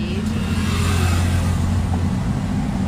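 A new car's engine hums steadily from inside the cabin on its first drive, a low continuous drone with road noise and no clear revving.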